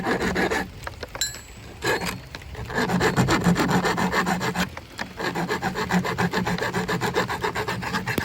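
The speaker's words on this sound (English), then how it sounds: "See that little sharp piece there? Just file all those down." A hand file rasps back and forth across sharp edges in repeated close, scraping strokes. There is a short pause early on, then the strokes pick up a steady rhythm.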